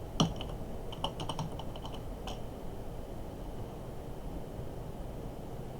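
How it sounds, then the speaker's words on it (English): Keys clatter on a computer keyboard in a quick burst of clicks, then a few isolated taps, over a faint steady background hum; nobody speaks. "So in situations like this is what you want to type."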